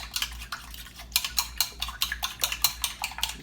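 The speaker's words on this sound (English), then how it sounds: "So I'm going to go ahead and beat our eggs" Eggs are beaten briskly in a bowl for fried conch batter, a fork or whisk clicking against the side in quick, regular strokes close to the microphone.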